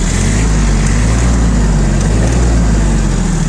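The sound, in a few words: Hinomoto CX16 tractor engine running and revving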